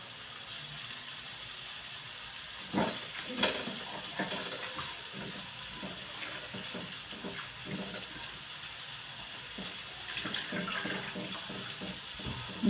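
Water pours steadily into a cooking pan while zunka with kara heti flowers is prepared, a continuous close splashing gush with a few brief clinks and no talking.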